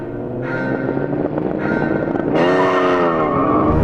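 Racing cars in Gran Turismo launch off the line in a drag race, engines revving and rising in pitch as they accelerate, with a louder surge of climbing engine tones midway through.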